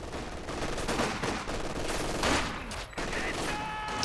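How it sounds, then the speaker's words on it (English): Rifle grenades and small-arms fire in a Company of Heroes 2 match, a dense run of overlapping bursts and blasts with a brief lull near the end, loud and continuous. "Must be quite happy with those rifle nades. Just spamming a few of them out there."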